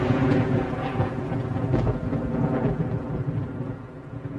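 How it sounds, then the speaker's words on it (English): Thunderstorm with deep, rolling rumbles that swell and fade over a constant low drone, heavy and continuous throughout, with no one speaking. "Storms not only cause delays, but pose extreme dangers to commercial jets."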